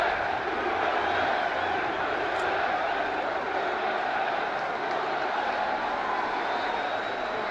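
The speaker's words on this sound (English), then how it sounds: "Let's take a look at this crowd reaction. Michael, maybe the loudest pop all night." A big arena crowd at a UFC fight in Tampa roars in a loud sustained wave of cheering that holds steady, with no single voices standing out.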